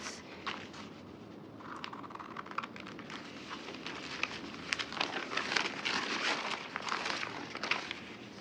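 Scissors cutting through a folded paper sleeve pattern: steady close snipping and rustling crackle that grows busier toward the end, with no talking.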